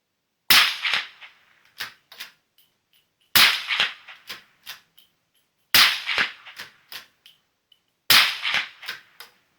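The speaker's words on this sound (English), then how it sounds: "With the suppressor on, both suppressors are doing a pretty reasonable job in comparison to no suppressor." Four suppressed gunshots ring out at even intervals, comparing a DPT magnum suppressor with a cheap suppressor. Each is a sharp, loud crack followed by a few quick echoing slaps, with silence between shots.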